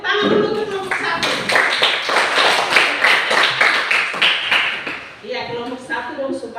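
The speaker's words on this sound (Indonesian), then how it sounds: "Tentu tepuk tangan dulu untuk kelompok 1." Class in a school teaching-practice session applauding a student group, with dense, sustained clapping over several seconds mixed with voices, then tapering as talk resumes near the end.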